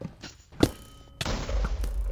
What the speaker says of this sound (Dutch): Oeh, explosie.